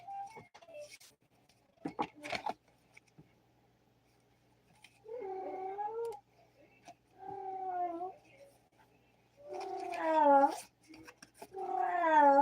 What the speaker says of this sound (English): She's meowing from some corner somewhere.